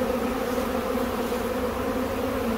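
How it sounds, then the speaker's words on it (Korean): Honeybees swarming around the branches and blossoms of an apple tree make a dense, steady buzzing drone that continues without a break, loud and close, with no voices. "지금은 꿀벌들이 사나워서 방금 전에 제가 손으로도 만졌었는데 지금은 손으로 만질 수가 없어요."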